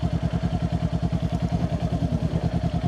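A 2023 Kawasaki Ninja 400 moving slowly: a low, even engine putter pulsing in a rapid, regular rhythm at close range, steady and alone for a few seconds.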